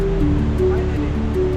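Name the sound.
waterfall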